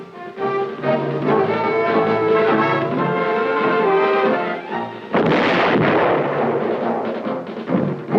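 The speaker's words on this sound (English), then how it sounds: "It permits firing at targets moving at various angles, ranges, and speeds" An artillery gun fires at moving test targets at Aberdeen in a 1969 testing film, a heavy booming blast that cuts in loudly after a stretch of steady tonal background sound.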